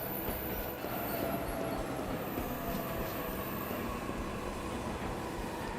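In the video game 13 Sentinels: Aegis Rim, a train rumbles past in a continuous, even rolling din that holds at the same moderate loudness with no voices over it.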